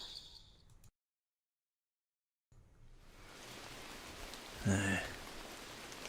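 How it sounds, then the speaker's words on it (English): Steady soft rain hiss, briefly cutting out, then returning and thickening, with a short louder burst of patter near the end. "Fucking rain. It's back."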